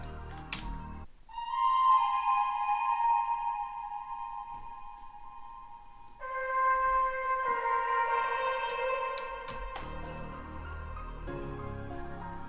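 A melodic loop for a Lil Tjay-style pain beat, drenched in delay and heavy reverb with the lows cut, plays sustained tones that shift pitch and trail into washy echoes, moderately loud with no speech.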